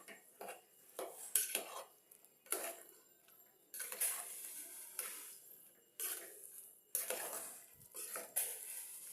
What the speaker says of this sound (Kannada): ತರಕಾರಿ ಜೊತೆಗೆ ಮಸಾಲೆ ಬೇರೆ ಎಲ್ಲ ಮಿಕ್ಸ್ ಮಾಡಬೇಕು.